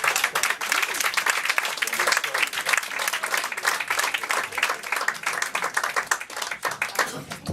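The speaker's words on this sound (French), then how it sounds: "On l'applaudit, mesdames et messieurs." An evening poetry-event audience applauds a poet's introduction with brisk, continuous clapping that holds steady and fairly loud throughout, individual hand claps distinct within the crowd.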